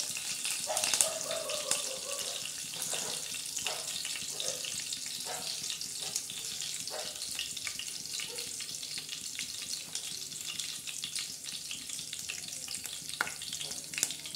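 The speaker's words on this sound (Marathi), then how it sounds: "मस्त त्या तेलामध्ये मस्त असा कढीपत्ता तडका बसत आहे कढीपत्त्याला।" Curry leaves hit hot oil in a cooking pot and sizzle with a steady, close frying crackle, with faint stirring clinks, and no one talks.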